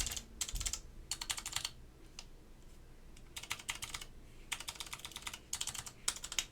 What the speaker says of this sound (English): Got our stabilized keycaps pushed in.